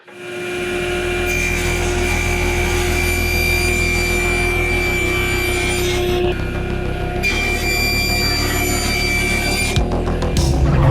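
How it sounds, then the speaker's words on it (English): A table saw rips through a walnut board with a loud, continuous whining cut that holds steady for several seconds, then shifts pitch as the blade finishes the pass. "Starting over here at the table saw with this walnut."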